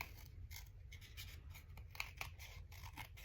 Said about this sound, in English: now I'm going to flip it over and we're going to fussy cut around it